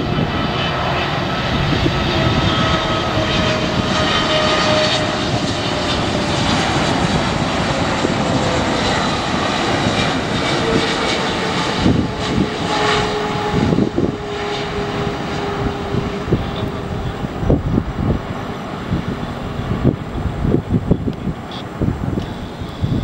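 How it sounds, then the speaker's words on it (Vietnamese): A Boeing 777-300ER lands at night on runway 25R at Tan Son Nhat airport, its jet engines roaring loud and steady with a slowly falling whine, wind buffeting and rumbling thumps as it touches down. "Và bây giờ chiếc máy bay này hạ cánh xuống đường băng 25 phải sân bay Tân Sơn Nhất."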